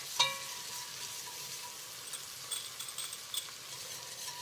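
Minced garlic sautéing with softened onions in a pan gives a steady, quiet sizzle with a few faint stirring clinks, heard alone without talk.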